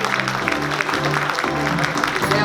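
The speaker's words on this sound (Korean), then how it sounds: "큰 박수로 환영해 주십시오." A crowd at a textile and fashion industry New Year's reception applauds to welcome a government official, a dense, even patter of clapping over a low sustained tonal background.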